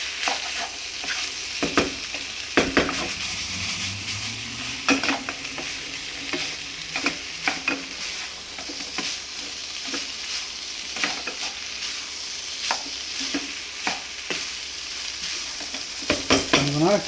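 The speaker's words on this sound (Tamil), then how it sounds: "நீங்கள் அப்படியே லைட்டாக அப்படி கிளறி விடுங்க" Rice being stirred in a pan while vegetarian pulao (nasi minyak) fries, a steady soft sizzle running throughout with scattered scraping and clinking strokes of the spoon against the pan, no talking.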